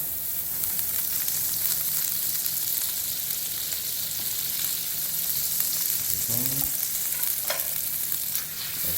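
Butter sizzles steadily in a hot pan before an L-bone steak goes in to be cooked medium, a continuous close frying hiss with a few brief clinks and scrapes near the end.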